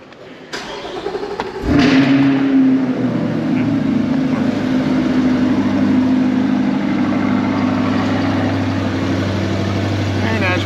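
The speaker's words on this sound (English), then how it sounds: "I'm gonna start the car and make sure this is sealed up" A Chevrolet C8 Corvette engine cranks and catches with a sharp burst close by, then settles into a steady, loud, even idle that holds for the rest of the stretch.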